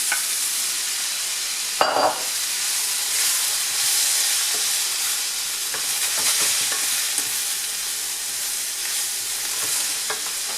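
Mushrooms fry in a pan just after deglazing for a filet mignon mushroom sauce, giving a steady close sizzle with scraping stir sounds and brief louder bursts, no speech.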